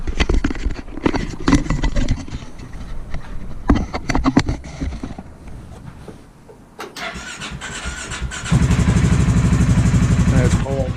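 A 2018 Polaris Sportsman 570 SP Touring ATV engine cranks unevenly amid clatter and a brief hush, then catches and settles into a loud, steady idle running alone.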